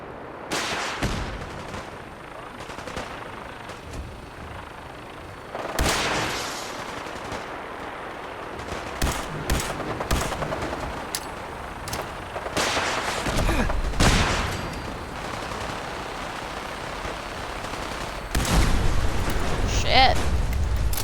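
Video game combat with missile launcher fire and explosions, dense gunfire and booming blasts throughout, with loud bursts near the start, middle and end over a constant rumble.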